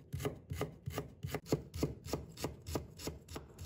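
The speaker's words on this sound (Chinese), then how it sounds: "然后改刀切成姜末" A knife mincing ginger finely on a cutting board, in quick regular chops, about a dozen even strikes, close and moderately quiet with no talk.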